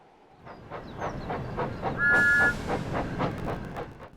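Thomas the steam locomotive in Train Sim World 5 chuffs in a steady rhythm of exhaust beats, with a short high whistle toot partway through, moderately close and alone.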